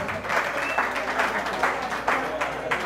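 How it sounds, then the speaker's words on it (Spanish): Applause from a crowd at an interactive stage show, a steady, fairly loud patter of many hands clapping throughout. "El aplauso maravilloso para el señor."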